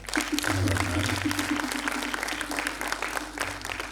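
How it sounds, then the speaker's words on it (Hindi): Audience applause at a defence literature festival, a steady full roll of clapping from a hall crowd that slowly thins toward the end. "मैं देख रहा हूं कि आपकी करतल ध्वनि धीमी पड़ रही है"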